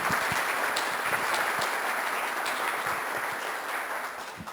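Warm audience applause greets a guest speaker at a human rights conference in Querétaro, a full steady clapping with a few sharp near claps, slowly tapering toward the end.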